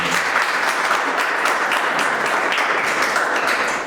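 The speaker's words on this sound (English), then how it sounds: "Give them a round of applause" Audience at a live freelance business event giving a steady round of applause, close and full, dense clapping that holds evenly for several seconds before easing off at the end.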